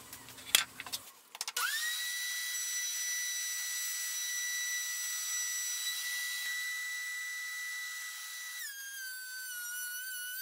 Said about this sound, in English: and I'll use the planer